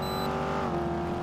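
A motorbike in the video game GTA 5 speeds past on a highway, its engine a steady, buzzing, high-revving drone that shifts slightly in pitch as it goes by.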